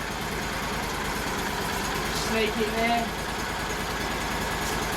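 A stump grinder's small engine idles at low revs with a steady low throb, while someone speaks briefly over it near the machine outdoors.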